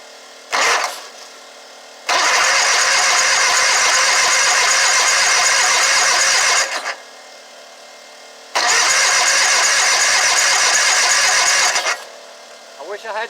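Exmark lawn mower engine cranked by a newly installed starter and solenoid, two long loud bursts of steady whirring cranking, each several seconds, separated by pauses, without catching.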